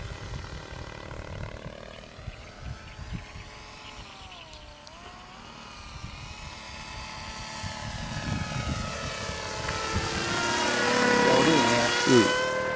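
Radio-controlled AC 10 gyroplane in flight, a buzzing propeller motor drone that shifts in pitch as the model passes and grows louder near the end, with people talking nearby.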